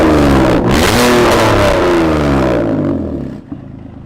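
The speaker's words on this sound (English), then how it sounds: "It's got like a whip and then a deep growl." A concept car's engine revs hard and loud up close, a whipping rise settling into a deep, sustained growl that drops away briefly near the end.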